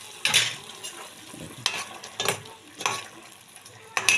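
Sweet potato langcha frying in a pan of oil, with soft sizzling and several sharp bursts of spattering and stirring scrapes across a few seconds, close by.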